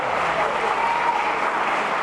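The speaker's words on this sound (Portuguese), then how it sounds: "Dê um aplauso a Jesus." A church congregation at a Portuguese-language sermon applauds Jesus, a dense, even roar of many hands clapping that holds steady for about two seconds, with voices blended into the noise.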